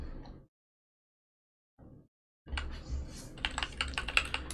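Brief bursts of keys open the clip, then after a pause a rapid run of crisp computer keyboard typing clicks close and clear, with no talking.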